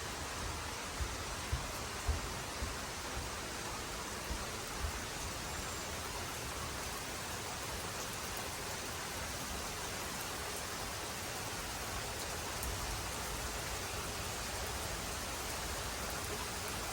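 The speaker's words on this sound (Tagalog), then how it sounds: "ang sarap pakinggan ng ulan." Steady rain falls outdoors, a dense, unbroken hiss of drops on surfaces that holds constant for the whole stretch, with a few faint louder ticks near the start.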